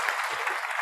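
A short, even burst of clapping from a small group at a live online talk show, soft and continuous, lasting under a second with no speech on top.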